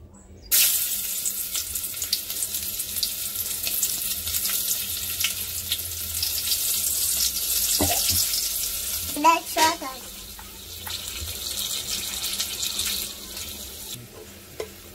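Garlic dropped into hot oil in a cooking pot, sizzling and hissing steadily and up close, with a few brief clinks partway through and no talking.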